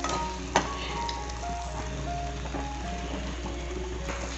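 Ingredients for a mutton kulambu sizzle steadily in a pan, a constant close frying hiss with a faint low hum and one brief clink near the start.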